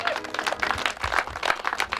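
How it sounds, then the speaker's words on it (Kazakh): Guests at a Kazakh wedding burst into brisk, loud applause, a dense crowd of claps with a few voices mixed in. "аналарыңызға бір ақ шапалақ кәнекей"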